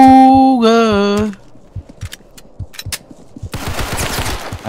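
Tec-9 gunfire in the Roblox game Criminality starts after a short rising tone and runs as scattered single shots, then a dense rapid burst, loud and close.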